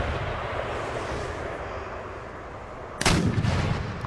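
A single loud cannon blast from artillery in a Total War strategy game, set against a steady rumbling battlefield ambience, with the boom's echo trailing off.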